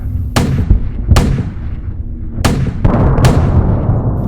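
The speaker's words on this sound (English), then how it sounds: "chunks of shrapnel began flying in all directions as bomb after bomb fell on top of the British armour" Bombs bursting on top of British armour in a tabletop wargame battle report: four sharp, loud explosive blasts at irregular intervals over a continuous low rumble, with a denser crackling burst near the end.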